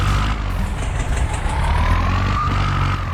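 A tractor engine runs steadily in Farming Simulator 19, making a loud continuous drone with a rising whine partway through, heard alone without talk.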